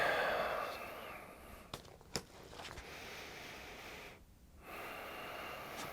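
Breathing in through the nose, close to the mic, with a couple of short sniff-like snorts and a sustained airy inhale under a faint background hiss, no talking.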